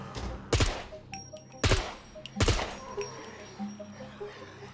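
Three short bursts of automatic rifle fire in SCUM, each a sharp loud rattle of a few rapid shots with gaps between, followed by quieter mechanical clicks and handling noise.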